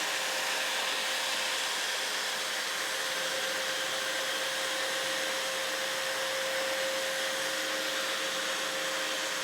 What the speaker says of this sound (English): I'm going to drill a hole using my Evolution mag drill there on the ground